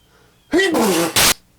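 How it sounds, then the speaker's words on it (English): A person gives a single loud, close sneeze, a short drawn-in breath rising into a sharp explosive burst, with no other sound around it. "I'm about to sneeze."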